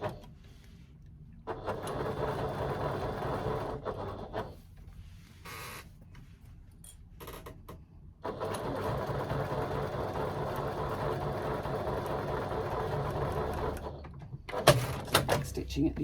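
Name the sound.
sewing machine stitching to secure threads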